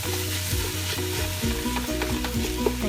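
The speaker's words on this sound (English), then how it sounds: "Alright, so we're adding the ground turkey." Ground turkey browning in a pan, a loud, constant sizzle with rhythmic scraping and stirring of a utensil through the meat, close up and with no voices.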